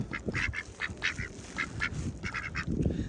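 Ducks quack in a quick, uneven series of short nasal calls at a windy lake, with gusty wind rumbling low and steady underneath.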